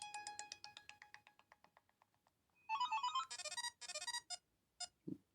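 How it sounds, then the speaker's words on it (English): A downloaded ringtone plays from an HTC Magic phone as a quick run of bright electronic beeps fading in loudness, then a louder burst of synthesized melody notes, quite faint overall. "A lot of downloaded ringtones."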